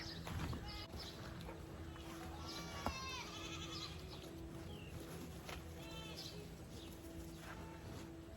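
Goats bleat on a farm, several wavering cries at moderate distance over a low steady hum, with a sharp knock midway.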